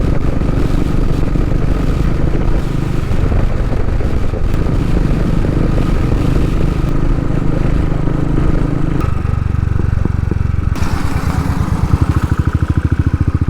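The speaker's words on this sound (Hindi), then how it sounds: "हम लोग बाइक से जा रहे हैं" Royal Enfield Thunderbird motorcycle ridden through a town after Durga Puja, a loud continuous engine thump with wind rush, the pitch and rhythm shifting as the rider changes speed, close and without talk.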